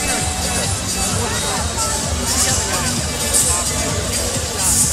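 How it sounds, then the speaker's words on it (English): Dense crowd hubbub fills a sellout boxing arena on the Cotai Strip in Macau at a Pacquiao–Algieri fight, a steady, loud babble of many voices that continues throughout without pause. "Sellout crowd here in the"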